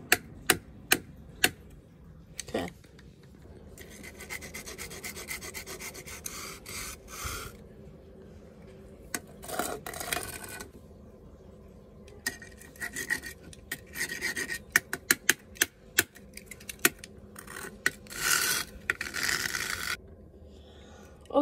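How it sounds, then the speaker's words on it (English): Scraping and chipping of a custom model dragged across a floor to rough it up with scratch marks, a close rasping rub in irregular bursts with sharp clicks and taps between strokes, no talk. "I'm just scraping it off the floor to get the scratch marks. And like chipping."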